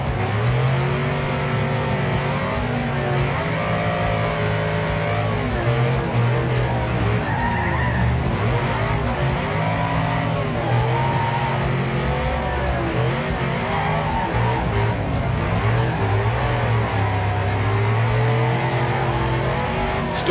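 Race cars in the Wreckfest video game roar and rev continuously, with tires skidding and screeching as the pack battles and cars flip and crash, a dense, loud engine wall throughout.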